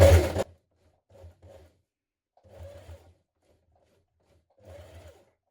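Sewing machine stitching through thick folded fabric and elastic on children's dungarees, a loud opening burst followed by three short, quieter runs of stitching separated by pauses.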